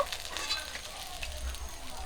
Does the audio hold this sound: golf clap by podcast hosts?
no